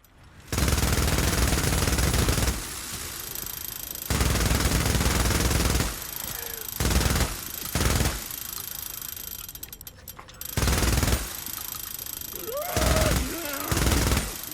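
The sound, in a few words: Growler gun firing in the Days Gone video game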